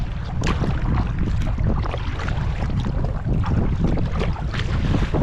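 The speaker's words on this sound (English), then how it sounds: "We're actually in the middle of it when it is very windy." Strong wind buffets the microphone during a paddle across the Ohio River, a loud, continuous rumbling gust noise mixed with splashing water and no voices.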